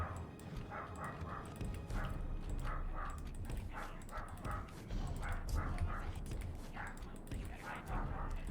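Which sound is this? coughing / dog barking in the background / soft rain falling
dog barking in the background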